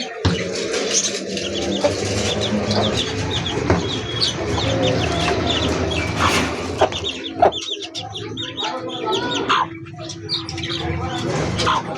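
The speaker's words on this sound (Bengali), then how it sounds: "আমার খামারের মুরগি, আমার পছন্দের মুরগি" Farm chickens cluck and chatter nearby, a hen among her chicks, with repeated short clucks, higher cheeping and a few louder squawks overlapping in a busy, close flock.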